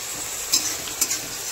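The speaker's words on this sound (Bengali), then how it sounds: "একটু পেঁয়াজগুলো একটু কষাতে হবে ভালো করে, যতক্ষণ না পর্যন্ত ব্রাউন কালারটা আসে।" Onions being stirred and fried in a pan until brown, a soft steady sizzle with two brief scraping stirs of a spoon, close and quiet, no voices.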